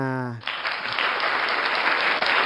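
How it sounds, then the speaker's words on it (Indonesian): Audience applause at a youth talk show and book discussion, starting abruptly after a brief spoken voice and holding as a steady, dense wash of clapping to the end. "Tepuk tangan dong semuanya"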